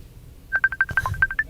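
Telephone call tones from a PC messenger come through on a live radio stream, a quick series of short, evenly pulsed beeps with one lower note, loud and close with no voices.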